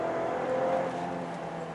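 The engine of a 2019/2020 Range Rover Evoque R-Dynamic accelerates in Dynamic mode, a smooth moderate whir with a rising tone heard from inside the cabin, steady and alone.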